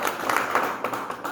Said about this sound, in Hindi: सबसे पहले हमारे देश के प्रधानमंत्री के लिए एक जोरदार ताली।